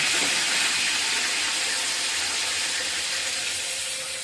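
A fish head sizzles in hot oil in a home kitchen, a steady, bright, hissing fry that stays loud and even throughout with no talking over it.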